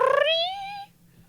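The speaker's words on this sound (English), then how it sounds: "Oh my God, what a weird noise for a cat to make." A cat lets out one odd, brief meow that rises and wavers in pitch, clear and close, then fades into quiet.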